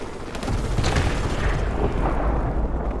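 Heavy gunfire and booming explosions in Call of Duty Modern Warfare Remastered as a squad fires on a balcony, loud continuous rumbling blasts and shots with no talk.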